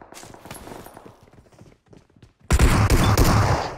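Shotgun fire in the mobile battle royale game PUBG Mobile: scattered quieter shots and steps at first, then a sudden loud burst of rapid gunfire that stays intense to the end.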